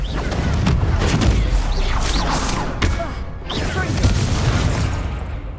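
Spell blasts in the Hogwarts Legacy video game: a dense, continuous barrage of booming explosions, cracking impacts and fiery bursts with little pause, loud and up close.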